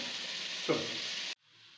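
Onions, green chillies and curry leaves fry in oil for a dhaba-style chicken curry, a steady close hiss with one brief stir, then cutting off abruptly.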